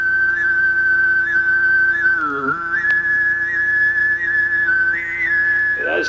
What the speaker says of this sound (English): as they're singing, there's a kind of a whistle that develops on top of the singing